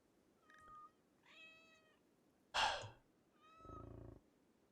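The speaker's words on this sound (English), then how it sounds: "A group of cats have wandered into the area." Cats in the video game Rimworld give four separate meows, faint and spaced out over near-silence, one of them sharper and louder than the rest.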